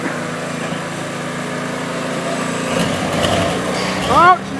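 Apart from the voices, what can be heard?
supercharged GMT400 truck engine revving during a burnout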